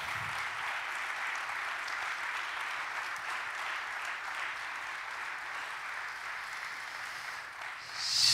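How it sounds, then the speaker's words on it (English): A church meeting audience claps steadily in a large hall, a dense sustained applause that holds evenly and swells slightly at the end. "Come on, let's cheer for Brian again."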